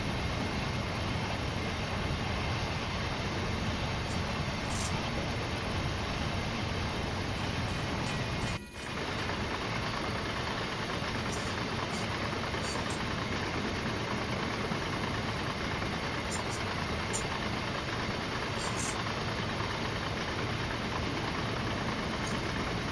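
A freight train with a rear DPU rolls at about 70 to 75 mph in a train simulator, making a steady, unbroken rumble that dips once for a moment.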